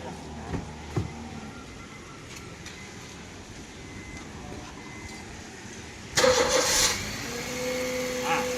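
A car engine cranks and catches in an automatic car with its foot brake pressed, a sharp burst after a quiet stretch with light sounds, then settling into a steady idle hum, close by.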